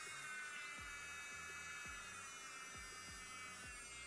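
Electric nail drill for acrylic nails running at 35 RPM, a steady high-pitched whine with a low hum beneath and faint rhythmic ticking, close and continuous throughout.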